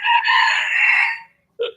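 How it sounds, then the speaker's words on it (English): A chicken crows loudly and close in one drawn-out call, then gives a short cluck after a brief pause. "Is that your chicken?"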